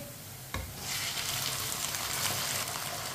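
Raw chicken pieces hit hot oil in a pan for chicken biryani, a sharp burst of sizzling that swells into a steady loud frying hiss.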